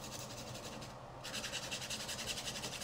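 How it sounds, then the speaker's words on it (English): A carbon fiber drone arm is worked over with a nail file to smooth delamination damage, making a steady, close scratchy rasping that carries on nearly continuously, with a short break near the middle. "Now I'm going to do this with a nail file"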